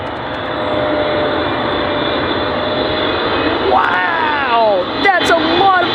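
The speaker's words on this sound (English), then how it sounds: "Here comes the Boeing 777 coming out of the clouds." Boeing 777 jet airliner passing overhead out of the clouds at Dulles, a loud steady engine roar that swells near the end, with excited voices talking over it.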